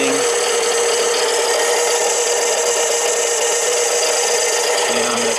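A Harbor Freight 7x10 mini lathe turns 304 stainless steel under continuous feed, giving a steady, loud whining hum with a bright metallic cutting hiss that holds without a break.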